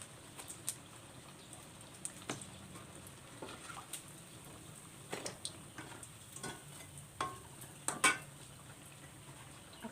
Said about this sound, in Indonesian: Aku goreng terongnya dulu. Terong ungu.